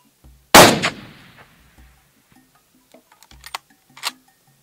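A single loud rifle shot cracks out while hunting blesbuck in Africa, its sharp report trailing off in a short echo, followed by faint clicks and small knocks in a quiet outdoor setting.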